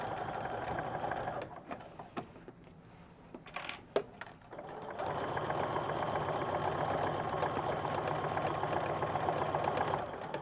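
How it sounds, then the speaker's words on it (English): A sewing machine stitches a seam on the pocket of a fabric fashion backpack. After a few seconds of quiet handling, the motor starts a loud, steady whirring run that lasts to the end. "so we're going to turn the work again and stitch up that side."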